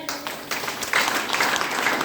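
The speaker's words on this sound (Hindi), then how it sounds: "जोरदार ताली होना चाहिए।" An audience at a motivational DXN talk in Nepal bursts into applause, a dense, crackling clatter of many hands that swells after a brief start and stays loud for a couple of seconds.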